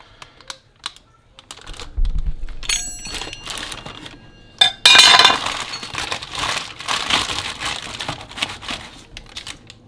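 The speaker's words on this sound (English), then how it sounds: "we're going to go ahead and cut this into pieces in the pan it's in" A hot knife slicing through cinnamon fudge in its pan, giving a run of close, crisp scraping and clicking cuts with brief pauses, and louder sawing strokes toward the end.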